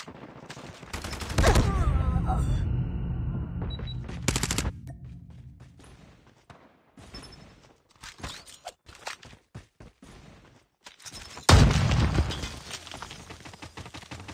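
Bursts of AGR 556 automatic rifle fire in the Call of Duty Mobile shooter, loud rapid volleys around the start and again near the end, with quieter scattered shots, footsteps and game noises between.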